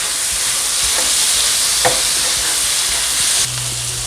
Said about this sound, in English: And then just stir fry.